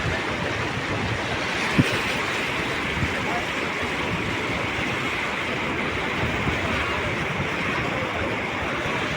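A river swollen and overflowing after heavy rain rushes past in a loud, continuous roar of churning water, steady from start to finish with one brief knock. No one speaks.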